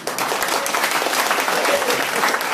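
Audience clapping during a business opportunity presentation, brisk dense applause from a crowd, loud and continuous throughout.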